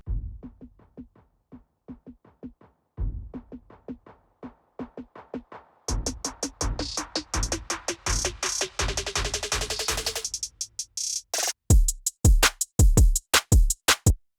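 Drum beat from a pre-chorus with a steady kick and snare that starts dull and muffled, then bursts open bright and full with crisp cymbals and hi-hats.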